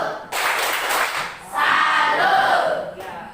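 A class of schoolchildren performs the 'tepuk salut' clapping chant, with bursts of crowd-like clapping and shouted chanting in two loud waves at close range.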